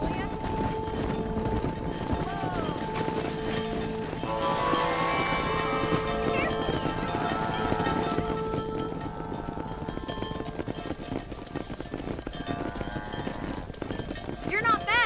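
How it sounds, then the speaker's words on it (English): A horse gallops in the Western video game Red Dead Redemption Remastered, with rapid, continuous hoofbeats and bursts of snorting, while game characters talk over it. "Control that horse, will ya?"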